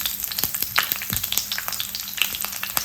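Garlic sizzling in hot oil with mustard seeds and fenugreek for a Tamil pomfret fish curry, a steady close crackle with sharp pops and spits, alone without talk.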